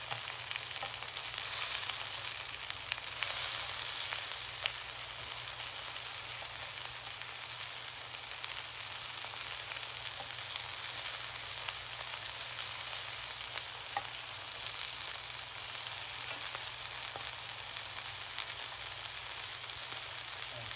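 Lamb chops sear in a hot pan with a steady, close, continuous sizzle and crackle that holds evenly throughout.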